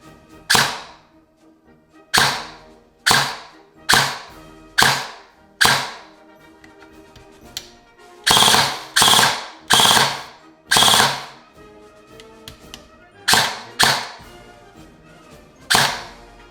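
An airsoft AK rifle with a stock gearbox fires in a series of sharp, close bursts, each a rapid buzzing rattle of shots cut off abruptly, separated by short pauses, loud and alone.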